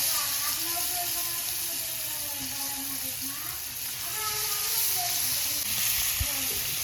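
Fish frying in a pan with turmeric, salt and masala, a constant loud sizzle throughout while a person talks faintly under it, outdoors by the coast.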